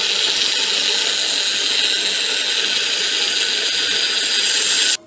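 A kitchen mixer grinder blends steamed onion and tomato into a smooth korma masala, giving a loud, steady high-pitched whir that runs without a break for about five seconds and then cuts off sharply.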